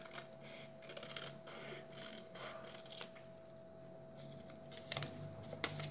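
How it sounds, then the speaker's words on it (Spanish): Scissors snip paper close by, cutting out a flower template from a small folded square in a series of quick, quiet crisp cuts with brief pauses, over a faint steady hum. "Vamos a cortar un cuadrito, lo doblamos a la mitad. Cortamos primero una hoja sencilla."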